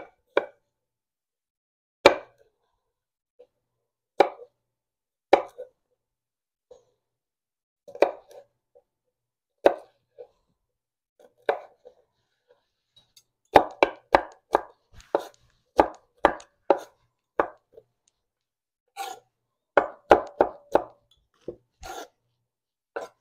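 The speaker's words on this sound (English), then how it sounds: "1 large onion and 4 cloves of garlic. And let's go ahead and chop those up" A knife chops peeled onion and four cloves of garlic on a board, in crisp separate strokes that begin sparse and spaced and then turn into quick bursts of closely repeated chops. No one speaks over it.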